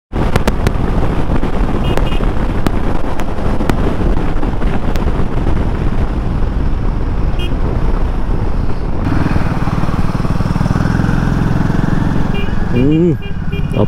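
A Royal Enfield Himalayan 450 motorcycle cruises along a highway on a long ride, its steady engine drone mixed with heavy wind rush, loud and continuous throughout, with voices talking over it at times.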